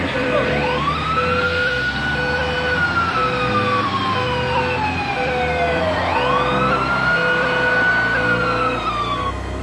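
Fire rescue vehicle sirens wailing together, rising and falling sweeps layered over a steady repeating horn-like tone, loud and continuous with road rumble underneath.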